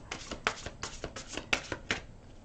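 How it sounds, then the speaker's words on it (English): Thick tarot-style cards riffled and bridged in quick repeated bursts, crisp papery flutters close by with a few sharper snaps, no talking. "Shuffle these."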